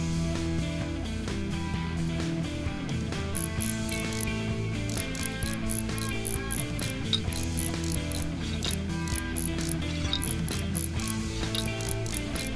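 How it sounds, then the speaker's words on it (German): Rapid ratchet clicks from a tool tightening screws in Train Mechanic Simulator 2017, repeating steadily and close over a dense, continuous mechanical background with no talk. "Alles festschrauben."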